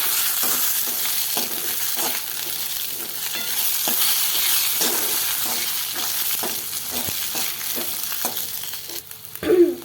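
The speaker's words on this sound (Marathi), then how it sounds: "आपला सगळा मसाला चांगला लालसर होईपर्यंत आपल्याला भाजून घ्यायचं आहे" Dry spice masala roasting in a pan until reddish, with steady scraping strokes of a spatula and a soft continuous sizzle, close up with no talking.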